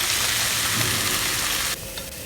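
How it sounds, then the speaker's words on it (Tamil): Amaranth stem greens being stir-fried with onions in a pan: a steady, close sizzle with soft crackle runs throughout, dropping slightly in loudness near the end, with no voices. "கீரையை போட்டுட்டு எல்லா பக்கமும் நல்லா வதக்கி விட்டுக்கோங்க."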